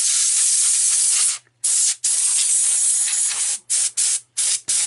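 Compressed air spray blasting dust off a Tandy 3100 motherboard, a close, loud hiss in long bursts broken by short gaps, ending in several quick sharp puffs.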